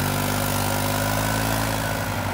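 A New Holland 3630 tractor engine drones steadily while pulling a tiller under load, a dense, continuous low-pitched hum that stays loud and unbroken with no speech.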